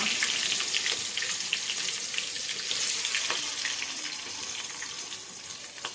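Cardamom, cinnamon and cloves frying in hot oil for mutton biryani, a steady close hiss and crackle with scattered small pops throughout, no talk.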